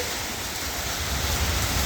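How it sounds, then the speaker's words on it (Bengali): Steady rain pours down just after a hailstorm, a dense, even, rushing hiss that stays loud and close throughout with no voices. "দেখো বন্ধুরা কেমন বৃষ্টি হচ্ছে দেখো এখানে"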